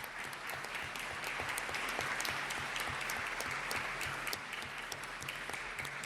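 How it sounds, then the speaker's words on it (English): A city council chamber audience applauds for the chefs, a steady, fairly close wash of clapping with a few sharper individual claps standing out, running unbroken for several seconds. "Let's give a round of applause for our chefs."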